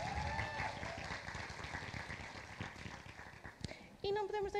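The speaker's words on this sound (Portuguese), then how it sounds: "um grande aplauso a ele" Audience clapping at an award gala for the creator of the award plaques, moderately loud and continuous for a few seconds, mixed with crowd noise, before a voice takes over near the end.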